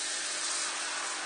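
Water sprayed or run to wet a bowl while making a cream tart, a steady close hiss lasting just over a second.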